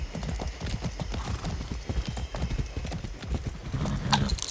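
Horse hooves clip-clopping at a steady riding pace in the video game Far Cry 6, a brisk rhythmic run of close, loud hoofbeats with a short whinny near the end and a voice briefly heard.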